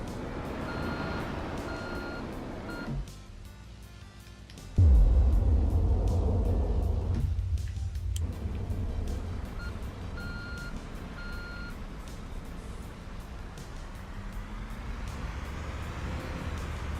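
Reversing beeps from a Mack Titan truck hauling a big trailer in the game Construction Simulator 2, a steady repeating beep over a deep engine rumble that swells loudly partway through, with no talking.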